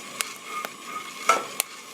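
Coffee beans roasting at home crackle in a few sharp, sparse pops over a low steady roasting hiss, close and moderately quiet, with no talking.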